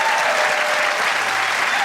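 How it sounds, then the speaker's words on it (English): Studio audience at a television entertainment show applauding, a steady dense wash of clapping throughout, loud and even with no pause. "Give him a round of applause."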